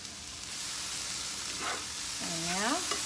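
Tofu scramble seasoned with salt, pepper and garlic powder, stirred and frying in a pan: constant sizzle with soft scraping, and a brief tonal squeak near the end.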